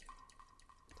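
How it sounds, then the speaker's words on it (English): Water dripping in the horror video game Midnight Puppeteer, a few soft, clear drips landing in a steady, sparse rhythm over a quiet, faintly tonal ambient hum. "That water noise."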